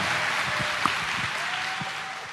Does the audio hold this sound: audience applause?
yes